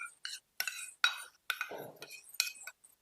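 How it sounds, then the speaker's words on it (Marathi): A spoon stirs curd starter into milk in a metal vessel, giving a quiet run of clinking, scraping strokes in short bursts separated by brief pauses, with no talk. "दुधामध्ये विरजण टाकल्यानंतर साधारण एखाद मिनिटभर हे व्यवस्थित असं ढवळून घ्यायचं"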